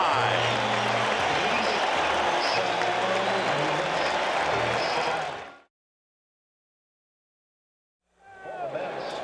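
A packed baseball crowd at Shea Stadium during the 1986 World Series roars and cheers loudly and continuously, then cuts to silence before the dense crowd noise returns.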